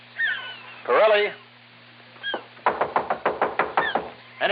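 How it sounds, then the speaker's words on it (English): A rapid, even run of about eight loud, close knocks on a door, following voices talking in a scene from a detective drama episode. "Stop knocking down that door."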